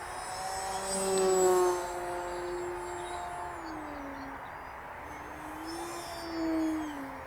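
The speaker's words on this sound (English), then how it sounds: "Time to get this lovely warbird up in the air and just start pushing it." An E-Flite S.E.5a RC warbird airplane flies overhead with a steady whining electric motor, its pitch rising and falling as it swoops past, louder near the start and again toward the end.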